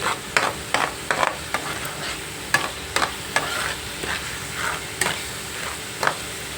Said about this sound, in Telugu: అల్లం వెల్లిపాయ పేస్ట్ వేసుకుందాం పచ్చివాసన రాకుండా బాగా వేగించుకోవాలి